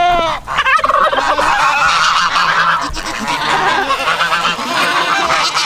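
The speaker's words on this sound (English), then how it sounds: "And there's the noise of geese." A flock of farm geese honks loudly and close by in an overlapping, continuous clamour of harsh calls, with no pause across the whole stretch.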